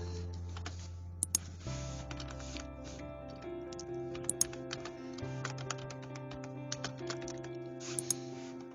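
Fingers type a short description on a computer keyboard, producing irregular bursts of light, close clicking keystrokes over a steady background hum.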